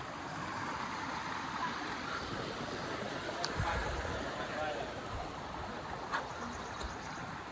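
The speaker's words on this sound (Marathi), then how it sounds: "पावसामुळे मित्रांनो पाणी तर खूप वाढलेलं आहे" Fast-flowing stream water, swollen by rain, rushes in a constant, dense roar, close by, with a couple of faint knocks over it.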